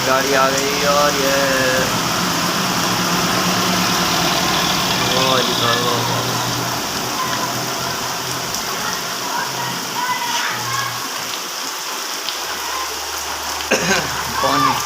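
A vehicle's engine idles with a low steady rumble as it arrives in a village during heavy rain, the constant patter of rainfall all around and voices talking over it, the engine fading near the end.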